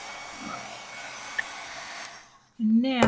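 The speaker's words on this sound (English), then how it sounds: "I'm going to grab my heat tool so we can heat set this" A heat tool starts up near the end, its fan blowing a loud steady whirring hiss after a quiet stretch of faint room noise, used for heat setting white embossing powder on a stamped image.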